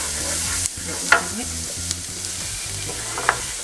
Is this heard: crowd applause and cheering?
no